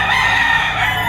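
A rooster crows in one loud, sustained, close call that fills the entire moment with a harmonic, strained tone.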